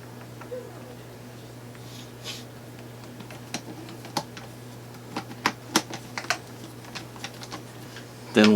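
Plastic fan cover being fitted back onto a household fan and two screws put in, heard as quiet scattered clicks and small taps against a steady low hum, with a louder clatter at the end.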